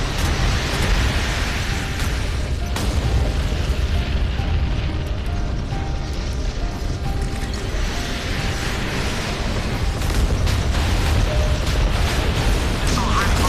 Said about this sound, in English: Missiles ready for launch, sir. Target hit.